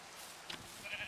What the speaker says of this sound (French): En plus, il y a des moutons